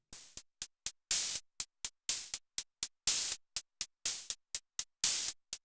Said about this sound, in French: je commence par ouvrir le bruit blanc